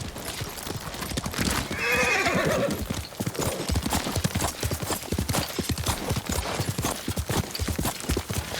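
In the video game Ghost of Tsushima, rapid clip-clop of horse hooves runs steadily throughout, with a loud horse neigh rising near the start.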